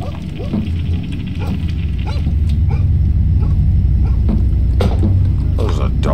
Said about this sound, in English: There's a dog. Nah, buddy. Dog barking outside.